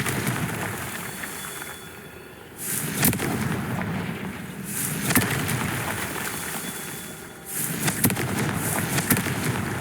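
Confringo blasting spell cast in the video game Hogwarts Legacy, several sharp bursting blasts spaced a couple of seconds apart over continuous in-game ambience.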